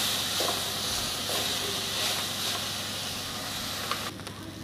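Chopped vegetables for cutlets, capsicum among them, sauté with rock salt in a pan, giving a loud, dense, steady hiss of frying that drops off abruptly near the end.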